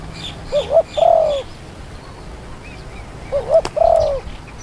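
Two short cooing phrases from a spotted dove, each a couple of soft lead-in notes followed by a longer mellow coo, fairly close against a quiet outdoor background.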